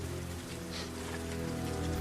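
Rain falling at night, a steady close patter of drops on surfaces with a low hum underneath, even and unbroken for a couple of seconds without any voices.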